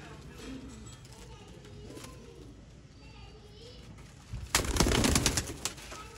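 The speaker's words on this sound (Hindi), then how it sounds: "वही कबूतर अब आपको चलते फिरते दोस्तों इस वीडियो में दिखाए जाएंगे" Sialkoti pigeons, breeding pairs of classic and cross breeds, coo softly under steady background noise. Near the end comes a louder stretch that sounds like flapping wings or a closer flurry of movement.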